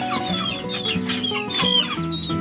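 Several Shamo chickens cluck close by in a backyard coop in quick, overlapping bursts, a busy farmyard chatter with no talking.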